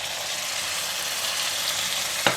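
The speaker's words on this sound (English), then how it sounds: "Going to stir fry the meat." Pork shoulder stir-fries in a hot pan, a loud, steady, close sizzle that hisses on without pause, with one brief clack of a utensil near the end and no voices.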